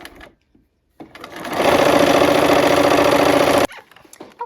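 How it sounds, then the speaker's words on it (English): A sewing machine stitches quarter-inch quilt seams, starting after a couple of soft clicks, building into a steady, fast mechanical whir for about two seconds at close range, then stopping abruptly; faint handling noises follow. "we're sewing a 1/4 inch for all of these seams"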